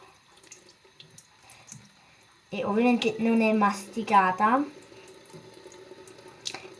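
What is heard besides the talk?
water running from a tap while handling slime under it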